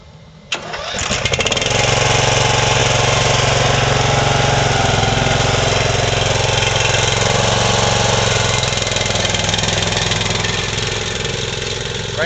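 An Evatech TREX slope mower's engine cranks and catches, then settles into a steady, loud, close-up drone that holds evenly for over ten seconds with no talking.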